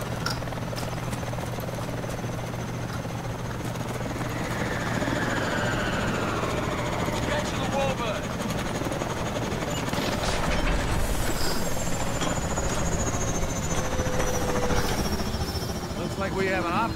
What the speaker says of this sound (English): Get to the warbird, Mitchell